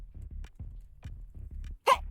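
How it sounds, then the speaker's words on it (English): A single sharp sneeze bursts out near the end, following a stretch of low, rhythmic background thumps, close and loud. "I'm sorry, I'm about to sneeze."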